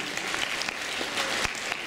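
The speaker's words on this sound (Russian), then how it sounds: "Ваши аплодисменты." Crowd applause fills a KVN comedy contest hall in Barnaul, a brief steady wash of clapping with no speech over it.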